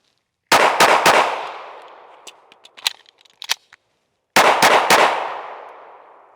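A Shadow Systems XR920 pistol fires on an outdoor range: a loud close group of three rapid shots, some quieter clatter, then another quick group of three shots.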